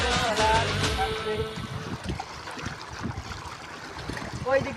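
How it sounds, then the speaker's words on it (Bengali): Trawler boats pass on a river between jungle banks, a churning engine and water wash up close with rippling splashes, while people talk over it. "কত ট্রলার আসছে।"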